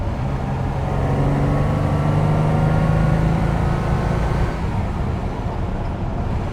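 A rebuilt 1960s Ferrari V12 from a 330 GT 2+2 or 365 GT 2+2 pulls under added throttle on a straight during running-in, a loud continuous engine roar that swells and then eases.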